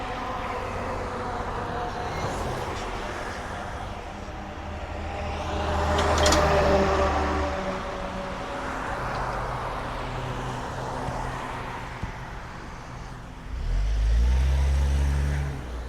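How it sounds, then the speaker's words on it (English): Road traffic near a beltway on-ramp, with car and truck engines rumbling steadily at moderate distance, swelling as a vehicle passes mid-way and again with a heavy low rumble near the end. "there's cars coming up off the belt line"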